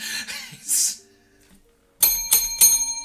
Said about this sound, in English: Failure bell, right?